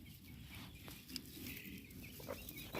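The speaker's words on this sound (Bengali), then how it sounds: "এই দেখো মুরগিগুলো এখানে লাগিয়ে আছে" Chickens huddled under a blanket in cold winter weather cluck softly, with faint, scattered calls and rustling over a low, steady background, all quiet and close.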